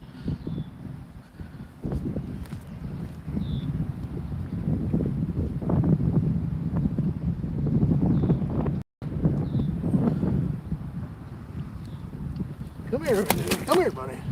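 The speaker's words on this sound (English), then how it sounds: "Told you guys it's windy." Strong wind buffets the microphone in low rumbling gusts, with a brief dropout and a few faint voices and high squeaks toward the end.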